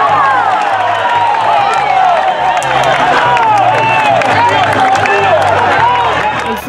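A crowd at a friendly municipal football match between Cantagallo and San Pablo shouts and applauds, loud and continuous, with many overlapping voices and cheers close around throughout.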